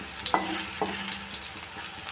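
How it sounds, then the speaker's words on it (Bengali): Pumpkin-leaf fritters sizzle in hot oil, a steady crackling hiss close up, with a couple of brief clinks of a utensil. "চলো প্রত্যেকটা এইভাবে ভেজে নিই"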